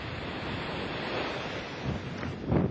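Ocean waves wash steadily onto a shore with wind buffeting the microphone, a continuous broadband surf roar that swells slightly as a wave draws back near the end.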